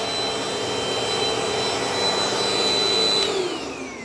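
A Dirt Devil Dynamite vacuum cleaner runs loud and close with a steady motor roar and a high whine, and the pitch falls slightly near the end as the motor eases off.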